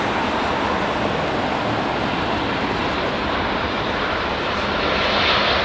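A WestJet airliner with Streamliner livery approaches London Heathrow in low visibility, engines giving a constant, loud broadband roar with a faint rising whine near the end, no talk.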